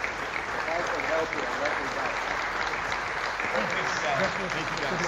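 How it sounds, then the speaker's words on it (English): A studio audience at a live college football show applauds Louisville football coach Scott Satterfield, steady sustained clapping close by from start to finish. "how about a big round of applause for University of Louisville football coach Scott Satterfield"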